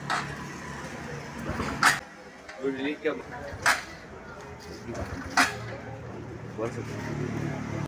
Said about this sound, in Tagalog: At ngayon subukan natin paandarin tong motor